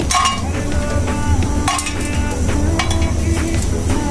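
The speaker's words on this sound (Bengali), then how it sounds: "আমি এখন মশলাগুলো ভেজে নিব তো আগে আমি বড় এলাচগুলো দিয়ে নিচ্ছি" Black cardamom pods dry-frying in a pan for homemade garam masala, with a light sizzle under frequent clinks and scrapes of a utensil stirring against the metal.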